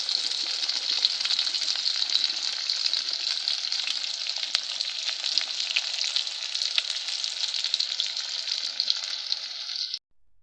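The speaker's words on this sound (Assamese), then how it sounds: "পিঁয়াজটো অকণ ভালকৈ ৰঙাকৈ ভাজি লওঁ।" Steady, loud sizzling of onions browning in a pan for Assamese chicken curry, a continuous hiss with small crackles, ending abruptly.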